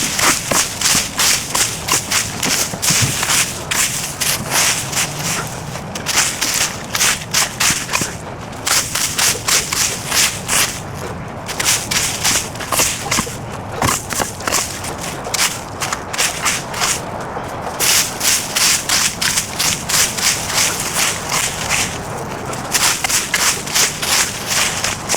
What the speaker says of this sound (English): Let's rake it up first.